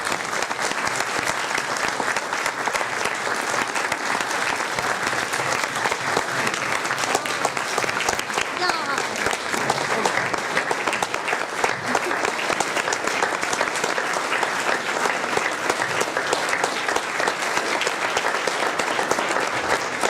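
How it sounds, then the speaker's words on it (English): A large audience applauds steadily for about twenty seconds, a dense and even wash of clapping with no pauses. "let's give them one more round of applause"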